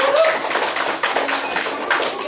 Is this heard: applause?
yes